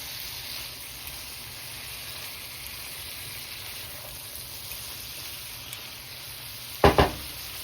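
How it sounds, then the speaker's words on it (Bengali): Fried fish sizzles in a pan with oil, a soft, steady frying hiss running throughout, broken near the end by two quick clattering scrapes of a spatula stirring the pieces. "এখন আমি এর মধ্যে ভাজা মাছগুলো দিয়ে দেবো, আবারও ভালো করে একটু ভেজে নেব।"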